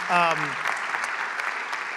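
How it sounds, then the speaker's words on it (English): An audience at a university lecture applauds steadily, the even crackle of many hands clapping, with a short spoken voice briefly over it at the start. "Invite another round of applause."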